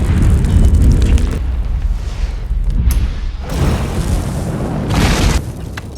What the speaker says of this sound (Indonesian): Ledakan bom rakitan Sawyer berhasil membunuh si gemoy Buck.